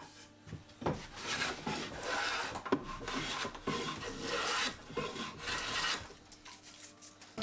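A hand plane shaves the end of a wooden scaffold board in repeated rasping strokes, about six dry scraping passes at close range with short pauses between, and no talk.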